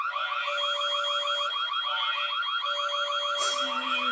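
Entrance alarm of the wrestling faction Right to Censor: a loud, steady warbling siren with rapid, evenly repeating pulses that runs without a break, with no talking.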